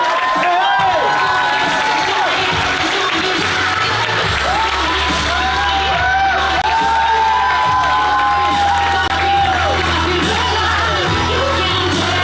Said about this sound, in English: a massive round of applause